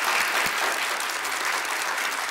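Studio audience on a quiz show breaking into applause, a short dense burst of clapping that stays full and steady throughout.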